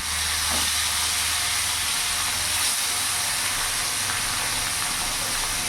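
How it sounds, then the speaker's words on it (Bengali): Boal fish pieces fry in hot oil in a pan, giving a steady, loud, close hiss and sizzle that runs unbroken with no voices. "তেল গরম হয়ে গেছে। এবার এক এক করে মাছগুলো দিয়ে দেবো।"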